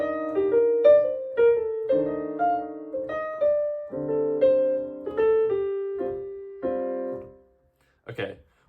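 Jazz piano voicings over a 2-5-1 progression, stepping through Dorian, Mixolydian and Ionian mode lines; clear separate chords ring and decay in sequence, then stop, followed by a brief percussive knock.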